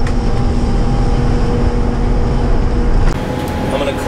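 A 26,000-pound 1959 GM 4104 bus with a two-stroke diesel engine, engine braking: a loud, steady, low droning rumble close by that drops slightly in level near the end.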